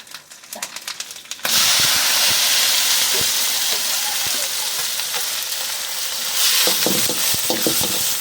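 Chopped ginger, green chilli, garlic and onion hit hot oil in a pan with coconut bits, bursting into a loud, steady sizzle after a few scraping stirs, with more stirring clatter near the end.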